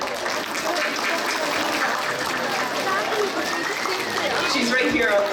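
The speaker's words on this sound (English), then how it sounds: "So can we please give a round of applause to Mrs. C." An audience at a school event applauding the art teacher, dense continuous clapping filling the room at steady strength throughout.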